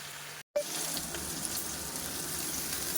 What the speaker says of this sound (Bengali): জল দিয়ে ফোটাতে ভালো করে